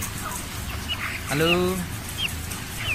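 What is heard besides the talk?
30-day-old broiler chickens clucking on a poultry farm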